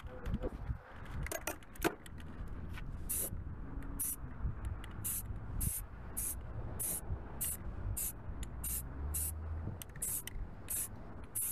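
Primer sprayed onto a wheel from a spray can in light coats, a series of short hissing bursts repeated in an irregular rhythm, close and crisp over low background rumble.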